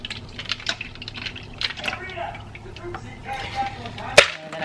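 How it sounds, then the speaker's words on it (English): A drink poured into a cup over ice, a soft liquid trickle and light clinks, with a voice talking throughout. "I will pour it in here, making sure none of the ice gets in there."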